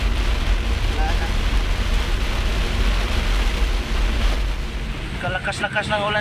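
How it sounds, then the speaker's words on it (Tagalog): Heavy rain pours during a downpour so thick that visibility is nearly gone, making a dense, loud, continuous roar that fills the whole clip with no break. "Malakas na naman ulit yung ulan."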